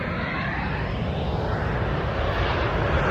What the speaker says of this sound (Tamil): ஒரு ஃப்ளைட் ஒன்று வருது